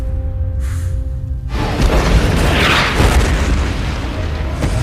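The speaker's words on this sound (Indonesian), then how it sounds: "ia menyalakan bom dan meledakkan sebagian zombie" A sudden loud bomb explosion among zombies booms in after a quiet moment, then a sustained rumbling roar of debris and blast noise continues.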